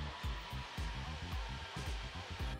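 A Homasy 2-in-1 cordless vacuum cleaner runs with a steady, soft whirring hum and gentle rhythmic pulses, close by and faint, with no voices over it.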